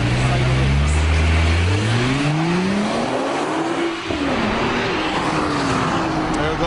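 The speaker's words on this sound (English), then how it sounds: "I mean, the sounds, the way the car accelerates" A Nissan GT-R accelerates hard, its engine note climbing steadily through the revs, dropping at a gear change, then rising again, loud and close from inside the cabin.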